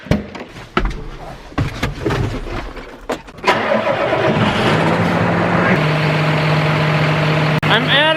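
John Deere 6175 tractor, fitted with a snow pusher and rear snowblower, cranks and fires up after some clunks and door sounds, then settles into a steady loud idle up close.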